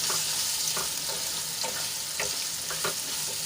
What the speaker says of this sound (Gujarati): એક લીલા મરચાંને મેં કટ કરી લીધું છે એ એડ કરી દઈશું અને આપણે દૂધીલી છે કટ કરેલી એ એડ કરી દઈશું દૂધીને સરસ રીતે તેલમાં મિક્સ કરી લઈશું